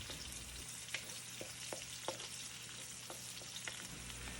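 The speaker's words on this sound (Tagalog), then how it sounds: "Lagyan mo na rin ng mantika at ng maigisa na natin niyang bawang. Sunodin mo na rin sibuyas." Garlic and onion sautéing in hot oil, a faint steady sizzle with occasional light spatula scrapes and ticks, close by and without talk.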